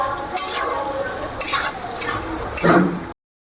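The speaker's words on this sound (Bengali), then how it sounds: "সমস্ত মশলা আমার ভাজা হয়ে গিয়েছে, দেখুন মশলা থেকে কি সুন্দর তেল ছেড়ে গিয়েছে" Spices fry in hot oil with a soft crackle, broken by several scraping stirs of a utensil against the pan.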